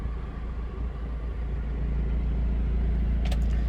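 A 2011 Ford Figo 1.4 Duratorq diesel hatchback idles steadily with its air conditioning running, giving a continuous low rumble close by, with a faint brief higher whir near the end.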